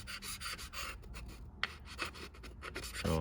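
A flat blade scrapes across an aluminum surface on a 2007–2011 Honda CR-V cooling system part, making a steady, close, raspy rubbing that continues without pause and gets slightly louder near the end.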